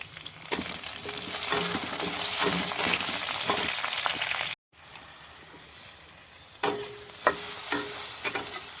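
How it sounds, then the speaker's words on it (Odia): Pointed gourd (potol) frying in a small amount of oil, a steady close sizzle broken by stirring scrapes and taps, with a short silent gap midway before the frying resumes. "ପୋଟଳଟା ଏମିତି କମ୍ ତେଲରେ ଭାଜିବା ସବୁଠୁ ଭଲ"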